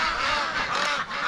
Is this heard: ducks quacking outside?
yes